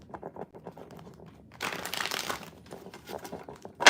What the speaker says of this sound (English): Like this deck likes to be shuffled.